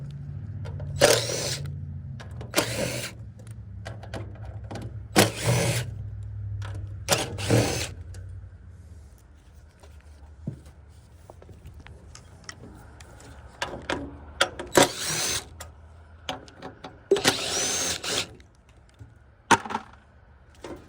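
A power tool removes screws from a rooftop AC unit during teardown, buzzing and ratcheting in repeated short bursts of one to two seconds, separated by quieter pauses with faint handling clatter.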